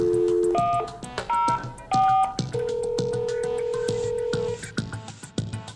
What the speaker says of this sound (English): Press the speaker key to hear that dial tone. From here you can dial a number to place a call.